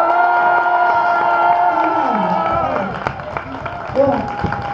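A crowd cheers, whoops and claps at a political gathering, loud and sustained before thinning out, with scattered shouts and a few voices near the end.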